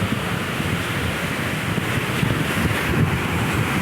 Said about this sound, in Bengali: দেখো গাইস ঢেউগুলো একবার দেখো, সেই লেভেলে ঢেউ